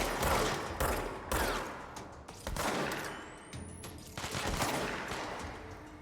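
Loud bursts of automatic gunfire in the Control video game, with several heavy volleys separated by brief pauses and a sharp whizzing sound partway through.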